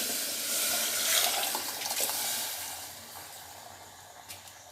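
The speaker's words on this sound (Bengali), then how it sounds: "এবার জল সমেত ডালটা দিয়ে দিচ্ছি" Lentils with water being poured into a pan for khichuri, a steady close rush of splashing liquid that gradually thins and fades, ending with a brief clatter.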